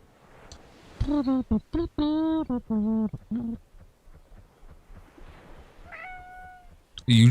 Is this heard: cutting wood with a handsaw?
no